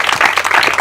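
An audience claps for a panel at a pitch event, a brief burst of dense applause from many hands, loud and close throughout.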